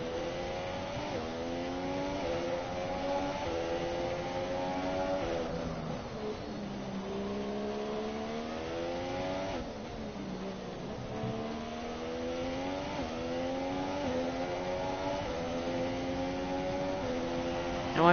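Formula 1 car engine from the F1 2017 racing game at the Russia circuit, revving steadily with rising and falling pitch as gears shift, sustained and loud throughout with no talk.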